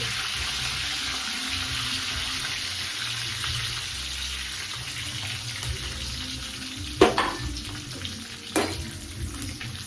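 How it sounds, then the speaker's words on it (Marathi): Coconut and garlic fry in a pan with a steady broadband sizzle, joined near the end by a couple of sharp stirring scrapes. "हे व्यवस्थित फ्राय करायचं त्याला मध्ये छान."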